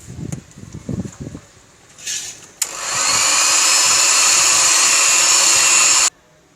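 Electric hand beater whisking separated egg yolks for a custard malai cake, starting abruptly after some clinking and running as a loud, steady whirring motor for about three and a half seconds before cutting off.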